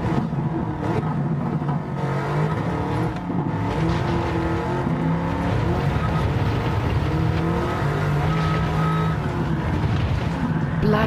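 Bugatti Chiron engine in Gran Turismo 7, loud and continuous as it accelerates hard through the gears past 180 km/h, steady roaring drone with shifting pitch throughout, no talk.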